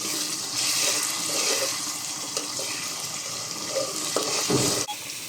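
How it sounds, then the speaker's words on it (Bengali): Cumin, ginger, garlic and minced onion fry together in a pan for beetroot chops, giving a steady, close, bright sizzle with a few soft stirring scrapes and a brief clatter near the end. "জিরা আদা রসুন এবং পেঁয়াজ কিমা সব একসাথে রান্না করে নিতে হবে"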